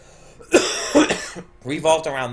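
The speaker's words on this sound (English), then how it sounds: "Excuse me for all the coughing." Two or three harsh coughs close to the microphone, followed by a voice talking.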